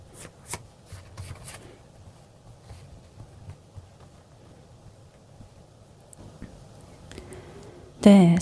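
Tarot cards shuffled in quick papery bursts at the start, followed by quiet soft handling and a card drawn, close and faint in a calm room.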